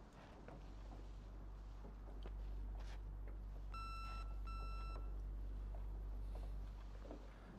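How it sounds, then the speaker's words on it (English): An answering machine in a quiet, eerie video game house gives two short, clear electronic beeps over a low steady rumble, faint and set back in the scene. "This is probably beeping because, yeah, they left the voicemail."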